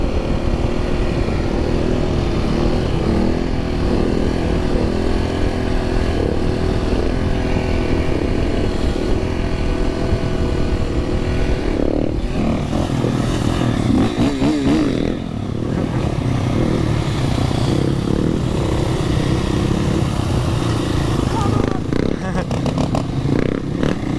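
Several supermoto motorcycles ride together on an open road, their engines droning steadily and loudly throughout, with wind rumble and people talking over the ride.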